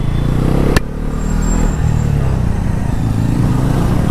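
A KTM Duke 250 Gen 3 motorcycle with modifications pulls hard in second gear, its engine droning loud and close in a steady, continuous rush with a brief sharp click early on.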